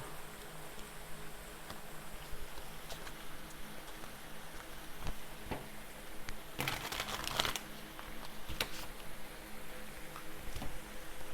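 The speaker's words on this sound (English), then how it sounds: "I hope this isn't too much noise. It's been raining off and on all day." Rain falling outside on a day of off-and-on showers, a steady soft patter throughout with a brief louder crackling burst partway through.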